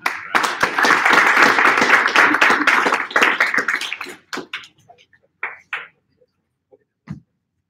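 A small audience at a coding bootcamp project presentation claps loudly for a team, a dense burst of applause lasting several seconds before thinning to scattered final claps and silence.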